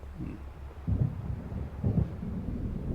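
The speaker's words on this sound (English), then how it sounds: "It seems there's a storm coming." A low, rolling thunder rumble from a storm approaching over open water in the video game Alan Wake Remastered, a steady dull roar with two swelling pulses, heard alone.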